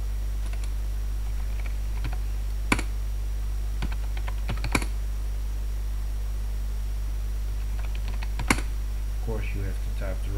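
Keystrokes on a computer keyboard as a password is entered during a Debian login, a few sharp isolated clicks spread over steady background hiss and hum.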